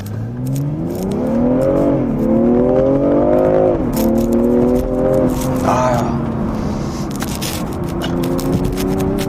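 BMW M340i accelerating on a public road: a steady engine drone rising in pitch through the gears, with a gearshift dip and continued climb, heard from inside the cabin alongside road noise.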